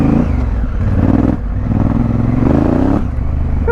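A Honda Africa Twin riding off road through sand, its engine loud and close with a steady throaty drone that rises and falls as the throttle changes.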